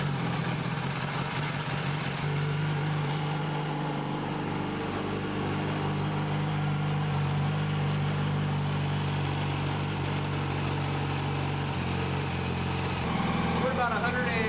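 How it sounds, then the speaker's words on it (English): A Yamaha R1 motorcycle engine idles on a stand during an oil change, a steady, even mechanical hum running the whole time beneath someone talking. "run the bike for a couple of minutes"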